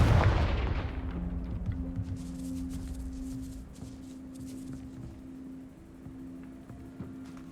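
A Confringo spell explosion in Hogwarts Legacy, a loud, near blast at the start that decays into a low rumble, followed by quieter fading debris noise and a faint sustained tone.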